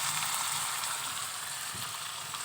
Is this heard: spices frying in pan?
yes